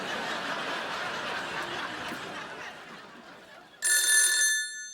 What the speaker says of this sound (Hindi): एक मिनट रुको, मैं फोन लगाता हूँ।